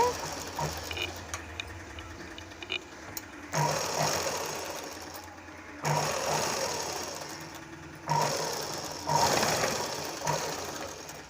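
Domestic sewing machine stitching the lining of a blouse, running in several bursts of a few seconds each with short pauses between, close and moderately loud, with soft mechanical rattling.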